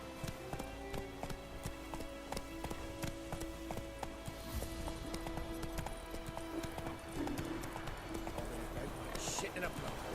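Roach, the horse in The Witcher 3, gallops in a steady clip-clop of hooves through the whole stretch, close and continuous over game music and ambience, with a brief whinny-like sound near the end.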